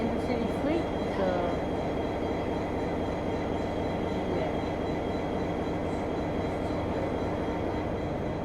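A train rumbles steadily through Strathfield station, a continuous loud rolling roar of wheels and carriages with faint squeals, a voice talking briefly over it.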